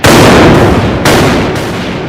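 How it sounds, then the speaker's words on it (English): A broadside from the three-decker flagship HMS Victory's cannons booms out in a naval battle, several very loud heavy blasts rolling one into the next with long reverberant rumbling tails and no voices. "The massive 3-decker flagship opens up all its gun ports, takes aim, and opens fire."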